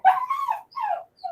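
A puppy whimpers and yips in high, whiny bursts, two longer cries and a short final yelp, close and fairly loud with no talk.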